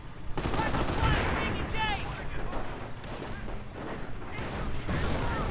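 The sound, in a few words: gunfire and mortar fire in a WWII strategy video game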